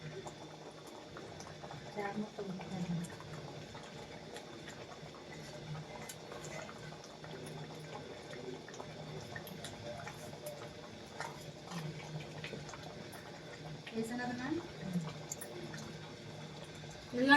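Godavari fish curry with raw mango pieces bubbling in a pot, a steady, continuous simmering boil heard up close, with a voice present over it.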